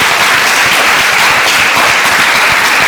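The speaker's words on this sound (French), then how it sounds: "je voudrais encore une dernière fois qu'on t'applaudisse très fort" A Montreal café-show audience breaks into loud, sustained applause, a thick wall of many hands clapping evenly from start to finish with no talking on top.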